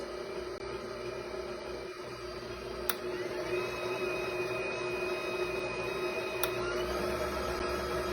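A SVEWT 6+1-speed stand mixer runs steadily at a higher speed, a continuous whirring motor drone with a faint whine at close range, two brief clicks breaking the otherwise even, unbroken hum.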